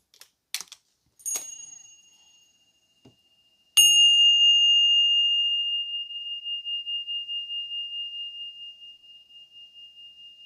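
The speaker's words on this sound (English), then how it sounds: "Let's use the bells." A few soft, scattered clicks and taps come first. Then a single clear bell strikes and its bright tone rings on, slowly fading and gently pulsing for several seconds in an otherwise quiet room.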